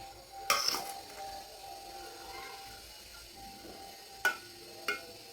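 A spoon clinks against a cooking pot as rice is layered in with oil for biryani. A sharp clatter comes first, then two short clinks follow later over a quiet background.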